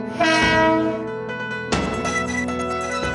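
A Mumbai local train at the Parel terminus platform sounds a long, loud horn, then a second horn blast follows amid rumbling rail noise and clatter.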